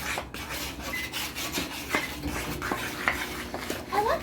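Cake batter is stirred in a bowl in a home kitchen, with a steady rubbing, scraping rhythm and a few clinks of the utensil against the bowl, close and moderately loud, with no talk.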